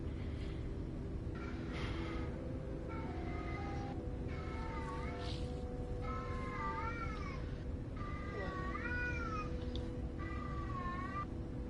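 A pet cat meows repeatedly indoors, about seven drawn-out, rising-and-falling meows in a row over a steady low hum, with no talking.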